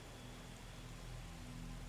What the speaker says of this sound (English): It is always raining here.